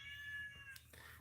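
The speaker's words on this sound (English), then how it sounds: "Like currently right now as I'm vlogging, he's meowing." A single drawn-out cat meow rises close by, faint against a quiet indoor hum, then fades.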